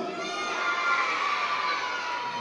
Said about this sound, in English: cheer and make some noise